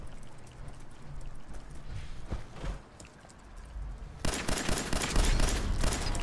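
Pistol shots in Fallout 4 ring out as sharp broadband cracks over a steady game backdrop, with a denser burst of firing near the end.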